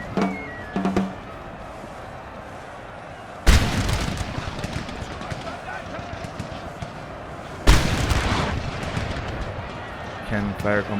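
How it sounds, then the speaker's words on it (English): Heavy cannon fire booms twice in a massive Napoleonic battle in Napoleon: Total War with the Darthmod mod, each loud blast followed by rumbling gunfire and battle din, with someone talking between the shots. "Cannon fire coming in."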